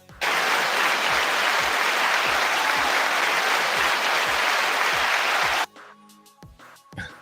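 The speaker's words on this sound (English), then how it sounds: "Or maybe I should give myself an applause." Steady, dense clapping from a small group or single source runs for about five seconds without pause, then stops abruptly into quiet, during an online goat-farming chat.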